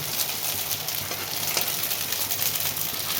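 Dense, even sizzling of chhana (fresh cheese) fritters frying in shallow oil, a constant close crackle with a low hum beneath and no talking.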